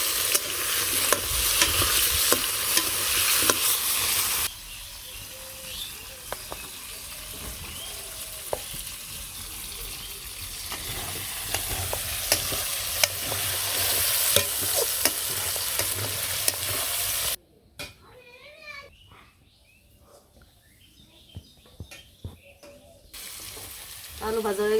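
Potatoes frying in a pan on a clay stove in a Bangladeshi village kitchen: close crackling sizzle with occasional stirring scrapes, loud at first then softer, briefly dropping almost to quiet near the end before resuming.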